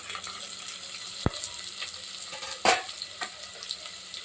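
Soft sizzling of finely chopped onion frying in oil with asafoetida, with a few sharp clinks and stirring scrapes of a utensil against the pan.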